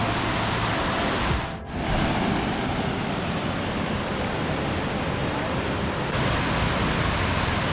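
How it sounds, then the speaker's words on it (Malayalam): Aruvikkuthu waterfall near Thodupuzha, Kerala, pours as a steady, loud roar of rushing water that fills the whole scene, broken only by a brief dip near the start. "ഇതിലാണ് വെള്ളച്ചാട്ടം പോകുന്നത്."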